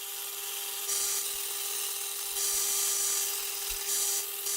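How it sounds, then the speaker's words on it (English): A belt sander with a fresh 40 grit belt shaping an epoxy-set knife handle, a steady close abrasive whine that surges louder in three bursts as the handle is pressed to the belt. "A fresh 40 grit belt made quick work of it."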